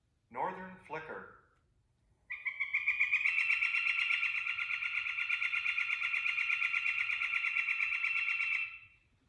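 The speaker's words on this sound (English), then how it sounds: "It's really hard not to hear a northern flicker with that like calls." A northern flicker gives a long, rapid series of repeated high calls lasting about seven seconds, clear and steady, preceded by a brief voice and a short pause.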